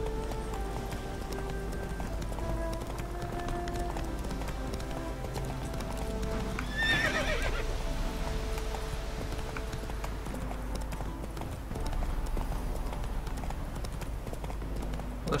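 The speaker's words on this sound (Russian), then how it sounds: "Лошадки." Horse hooves in the video game The Witcher clip-clop at a running pace over a steady background hum, with a brief whinny partway through; no one speaks.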